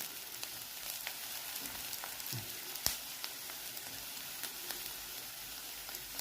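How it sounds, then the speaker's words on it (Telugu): Onions and finely chopped garlic fry in a pan with a steady, close sizzle. A dense, crackling hiss runs throughout, with a few sharp pops standing out from the even frying. "ఉల్లిపాయలు కొంచెం వేగేయండి."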